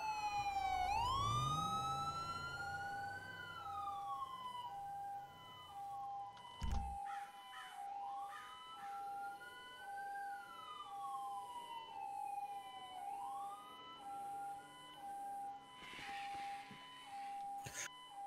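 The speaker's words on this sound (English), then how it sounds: "that siren's going crazy" A police or emergency siren wails nearby in repeated rising and falling sweeps, loud and continuous, with a brief knock partway through and no talking.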